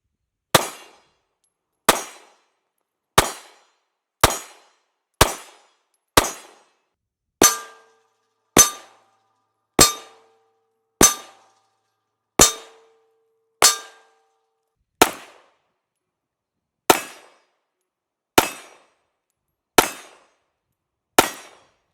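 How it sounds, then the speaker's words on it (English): A Springfield Armory Hellcat pistol fires at an outdoor range, about eighteen sharp single shots spaced roughly a second apart with brief pauses, each crack decaying quickly. "We're going to shoot just a few more rounds"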